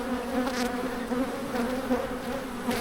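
Honeybees buzz densely and continuously around a large hive during inspection, a close, steady droning swarm with brief louder bursts as bees strike gloves, no talk.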